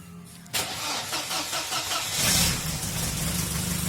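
A Mercedes 190 W201 engine cranks and catches after a quiet moment, then settles into a steady, close idle with a brief swell in revs.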